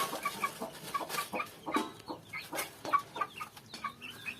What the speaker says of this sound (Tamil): பாருங்க எவ்வளோ ஆக்ரோஷமா இருக்கு சேவல்.